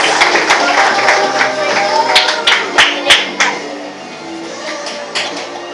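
A church congregation claps during worship, loud, fast and overlapping, with sharp individual claps standing out over a steady background of voices and music.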